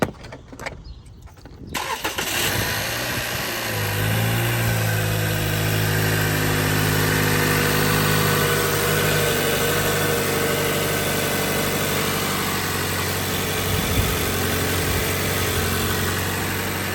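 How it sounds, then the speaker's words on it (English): A 2018–2022 Toyota Camry fitted with an AEM intake cranks and starts after a short quiet stretch, then settles into a steady, close idle hum with faint vibration and a slight blip near the end. "we're gonna ask the owner if he could turn on the car and rev it a little bit so we could hear"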